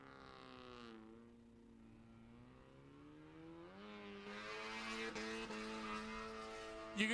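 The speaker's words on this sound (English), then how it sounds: "You can hear Ben clutch in, clutch out." A drift car's engine revs as the driver works the clutch in and out, its pitch dipping and then climbing in wavering sweeps and growing louder toward the end, heard from a distance.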